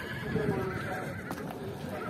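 A horse neighs nearby at the Sokuluk horse market, a brief whinny rising and falling, with faint shuffling and hoof sounds in the background.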